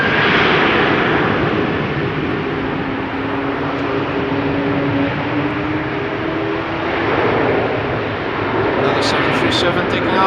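A Boeing 737 taking off at rainy Amsterdam Schiphol Airport, a loud, steady broadband jet roar that holds throughout, swelling slightly toward the end.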